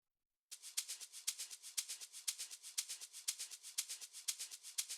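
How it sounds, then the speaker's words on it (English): A shaker loop plays alone, crisp hissing shakes in a steady, even rhythm with slight accents, close and moderately loud after a brief silence. "Then we have another shaker loop which sounds like this."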